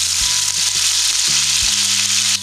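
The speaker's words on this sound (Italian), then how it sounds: "La salsiccia si è rosolata a punto giusto, la vado a sfumare con un po' di vino bianco" Sausage sizzles loudly in a pan as white wine is poured in to deglaze, a steady intense fry with low thuds and clatters underneath, no voices.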